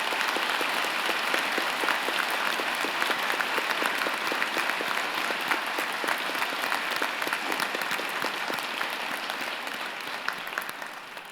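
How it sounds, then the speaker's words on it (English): An audience at a university fall convocation applauds vigorously, a dense, sustained clapping that tapers slightly toward the end. "join me and the platform party in thanking them with a vigorous round of applause"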